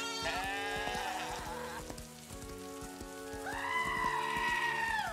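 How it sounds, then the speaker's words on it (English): Goats bleat in the video game Daggerfall Unity, with two long wavering cries, one early and one late, over a patter of rain and no talking. "Oh shit, sorry, that's goats."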